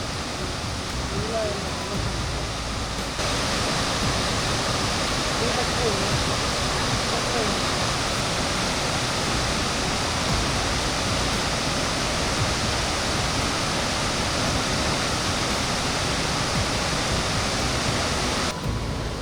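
A forest waterfall roars in a steady, dense rush of water that stays loud and unbroken throughout.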